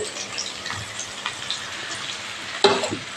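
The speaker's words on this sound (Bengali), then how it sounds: "দেখো আলুটা আমার ভাজা ভাজা হয়ে গেছে এবার আমি মশলাটা করে রেখেছি এই মশলাটা আমি দিয়ে দেব" Fried potatoes sizzle in a pan as a prepared spice paste goes in, a close crackling fry with scattered stirring scrapes and a sharper burst of sizzle near the end, no speech.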